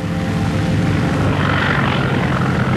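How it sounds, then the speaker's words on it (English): Small propeller airplane landing into a 20-knot wind, a steady, loud, close engine and propeller drone throughout. "With a 20-knot wind to slow him down, Harry Bliss lands with runway to spare"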